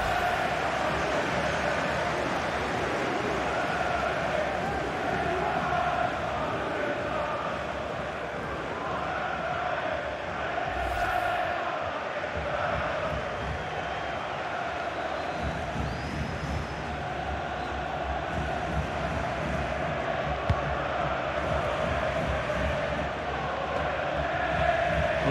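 Stadium crowd noise from a FIFA video game match, Luton Town versus Grimsby Town in the FA Cup, a steady loud roar and murmur of spectators filling the whole stretch without a break.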